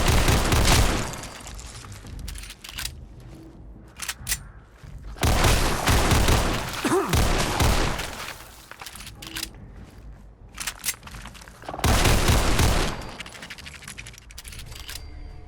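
Fireworks exploding in Fallout 4, several bursts of loud crackling booms arriving in waves with quieter crackle and pops in between.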